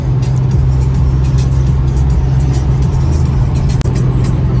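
Corvette C6 Z06 cruising on a highway, a loud continuous low engine drone with steady road and wind rumble heard from inside, unbroken except for one tiny click.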